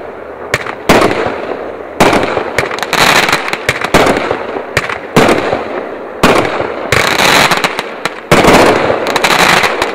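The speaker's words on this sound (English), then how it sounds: "Last cake, we got Retrosaurus. So 9 shots, this is the performance." A Retrosaurus 9-shot fireworks cake goes off outdoors in loud repeated bursts and crackling booms, each shot followed by sizzling tails and popping, running nearly continuously for about ten seconds.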